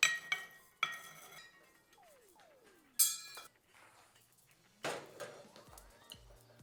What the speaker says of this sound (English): Let's break up that ice cube.